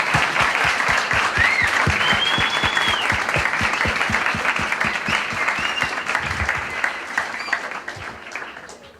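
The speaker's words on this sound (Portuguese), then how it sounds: "Vamos dar uma salva de palmas aos pais celestiais?" An audience at a CARP church convention in Brazil applauds warmly, a dense, loud round of clapping that holds steady, then thins and fades to scattered claps at the end.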